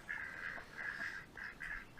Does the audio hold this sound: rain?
no